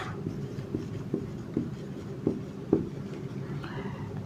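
A pen scratches on paper while working a CBSE board exam problem, a series of short soft strokes and taps in an irregular rhythm over a low, quiet room background.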